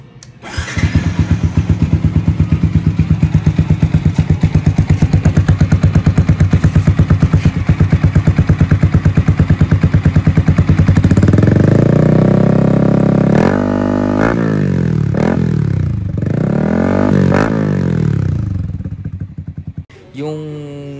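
A motorcycle with a LeoVince exhaust idles loudly with a rapid exhaust putter, then revs up in several sharp surges with rapid backfire that drop back between bursts, ending abruptly.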